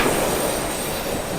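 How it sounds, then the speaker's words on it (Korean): A subway train pulls into a station with a dense, roaring rumble of wheels on rails and a high metallic squeal running steadily throughout, loud and close. "이 컷은 실제로 전철이 들어올 때 이렇게 찍었습니다."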